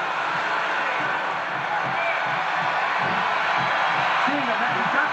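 A big arena crowd roars and cheers steadily throughout a WWE SmackDown vs. Raw 2007 wrestling match, a dense, continuous wash of noise with occasional whoops rising above it.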